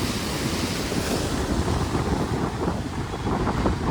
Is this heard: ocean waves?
yes